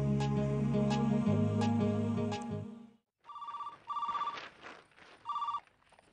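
A telephone rings in short repeated electronic bursts, four rings spaced about a second apart after a stretch of music, close and clear with no talk over them.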